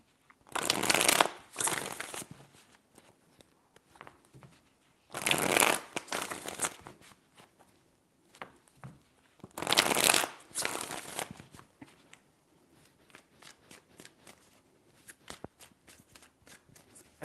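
Tarot cards are shuffled in three separate bursts, each a crisp riffling flutter lasting about a second or two, close and clear, with quiet pauses between.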